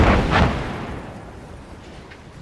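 A demolition charge detonates in ARMA 3: a heavy, booming blast with a second thump close behind, then a long rumbling decay that slowly fades over the rest of the moment.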